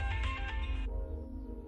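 A phone rings indoors with a short electronic ringtone burst that cuts off partway through, fairly soft beneath a low steady background hum, no speech.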